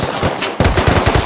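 Rapid, loud bursts of video game gunfire, a brief volley then a short lull before a denser string of close shots in a fast, uneven rhythm, with no voices.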